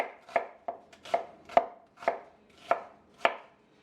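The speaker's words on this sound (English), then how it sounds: "I just want to give that a nice little slice." Knife slicing through a peeled heirloom tomato on a board for a simple salad: seven crisp, evenly spaced cuts, close and clear, with no talking.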